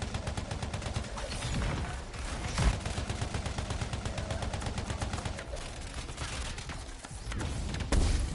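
Rapid automatic gunfire in a video game rattles on almost without pause, dense, loud and close, with a few heavier thuds mixed in and no talk.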